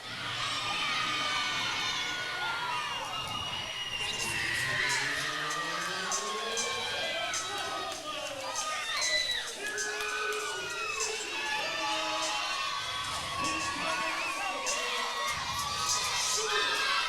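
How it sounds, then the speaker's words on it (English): An excited crowd at a live pro wrestling show in Healdton, Oklahoma cheers, whoops and shouts continuously, a dense, steady roar of many voices with high children's shrieks rising throughout. "this crowd here tonight in Healdton, Oklahoma is incredibly excited to see Mr. Wobble in attendance."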